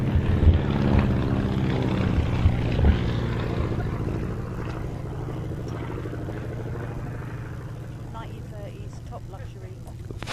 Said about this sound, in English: this is a tail dragger biplane with retractable main undercarriage